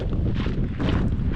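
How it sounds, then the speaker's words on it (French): Wind blowing outdoors at Horseshoe Bend, gusting against the microphone in loud, rough bursts of buffeting noise with no voices. "Au soleil, on a bien chaud, heureusement il y a du vent."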